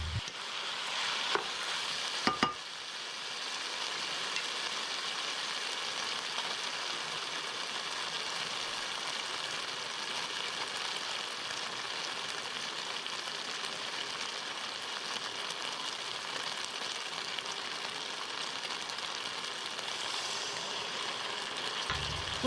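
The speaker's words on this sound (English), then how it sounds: "just kind of sear it in there for a minute or so to soften and add the aromatics from that minced" Beef and minced garlic sear in a hot stir-fry pan with cabbage and vegetables, a steady loud sizzle that holds unbroken for over twenty seconds after a couple of brief clanks at the start.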